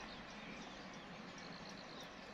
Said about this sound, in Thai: ตอนกลางคืนนะจะได้ยินเสียงนะน้ำตกชัดมากเลยนะ